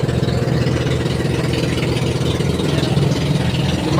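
A boat engine chugs slowly and steadily out at sea in windy conditions, a loud, close, even low throb without any talking.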